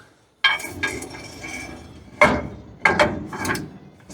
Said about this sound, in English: Now we can slide the axle in.